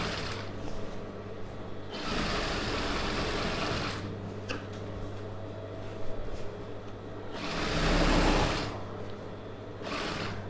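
A sewing machine stitches a Patiala pant, running in steady mechanical bursts with short pauses between them. The stitching is close and moderately loud, with no talking.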